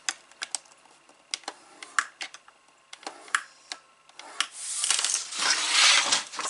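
Sharp dry clicks and taps of paper being creased and pressed to form a 2 cm fold for a pop-up craft folio, a close irregular run of crisp snaps, ending in louder rustling handling of the sheet.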